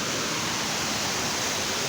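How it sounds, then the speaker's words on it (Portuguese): Steady broadband roar of a waterfall, loud and continuous with no pauses, heard close by during a motorcycle outing. "Vou mostrar pra vocês a cachoeira."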